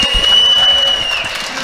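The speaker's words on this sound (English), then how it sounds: "You can hear the crowd in the background." Crowd applause and cheering at a YU Macs vs. NJCU college basketball game honoring a coach's 1,500th win, a broad steady roar of clapping with a faint sustained tone riding over it.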